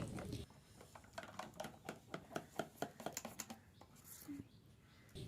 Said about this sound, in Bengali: ময়দা ভালো করে ফেটাতে হবে, যত ফেটানো হবে পরোটা কিন্তু ততটাই ভালো হবে